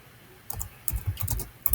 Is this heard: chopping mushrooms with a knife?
no